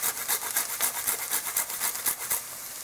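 Fresh nutmeg is rubbed against a grater in quick, even rasping strokes, about a dozen light scrapes close to the microphone before a brief pause.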